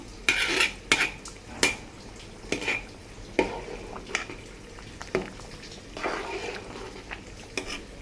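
Bagara rice is stirred in a cooking pot, a spoon scraping and knocking against the metal in a series of distinct clinks and scrapes, close and moderately loud, with a soft background hum between strokes.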